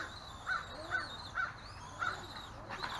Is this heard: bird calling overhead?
yes